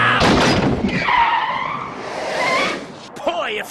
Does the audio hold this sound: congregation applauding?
no